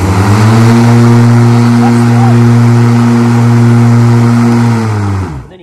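A Ryobi 100Ah electric riding lawnmower runs with its blades spinning, a loud, close, steady motor whine with a strong even tone that holds and then winds down quickly as it stops.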